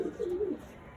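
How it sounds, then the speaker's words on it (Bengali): A Madras pigeon in a loft giving one short, low, throaty coo with a wavering pitch, close and quiet, then fading into faint background hiss. "ম্যাড্রাস পায়রা"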